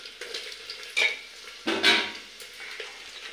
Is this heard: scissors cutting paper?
no